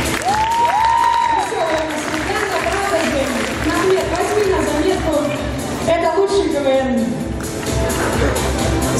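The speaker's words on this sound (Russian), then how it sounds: "ваши аплодисменты." Audience applause at a student debut evening of a university physical education faculty, a steady wash of clapping and crowd noise with voices and shouts rising over it throughout.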